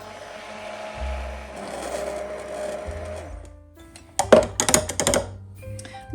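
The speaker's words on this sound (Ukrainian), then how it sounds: "Знову все пробиваємо до однорідності." A blender motor hums steadily at changing speeds while mixing strawberry waffle batter, then gives way to a burst of clattering, rapid knocks near the end.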